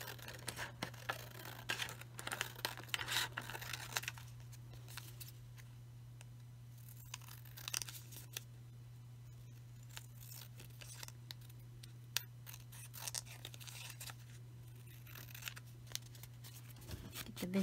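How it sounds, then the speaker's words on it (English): Scissors trim paper down to fit a glassine bag at a journaling desk: a run of quiet, close snips and light paper rustles, grouped in bursts with soft pauses between. "So I'm just going to trim this up a little bit so it'll fit inside of my"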